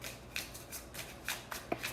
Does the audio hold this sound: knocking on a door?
no